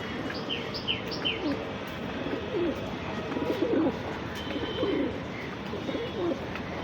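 Several pigeons coo in low, soft, repeated burbles nearby, with a few high chirps from other birds and a faint insect hum in the background.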